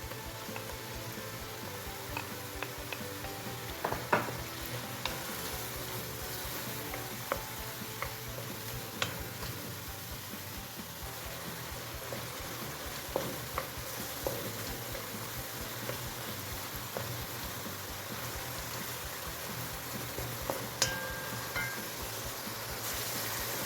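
Onions frying together with meat for Uyghur-style lagman, a soft continuous sizzle with scattered small ticks and clicks from stirring, moderately quiet and steady throughout, no voices.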